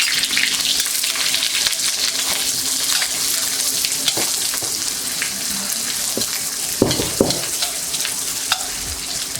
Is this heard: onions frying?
yes